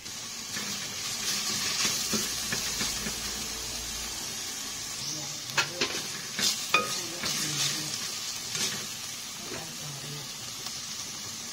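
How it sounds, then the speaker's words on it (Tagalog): Garlic, onion and ground meat sauté in a pan with a steady bright sizzle, broken by clinks and scrapes of stirring. A voice speaks now and then over the frying. "Igisa na natin ang mga sangkap na bawang, sibuyas. Susunod na natin ilagay ang giniling."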